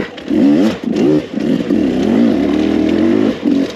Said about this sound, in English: the power delivery itself on this Beta 300 motor